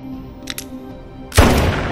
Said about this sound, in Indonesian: mengangkat pistol itu dan menembakkan peluru ke kepalanya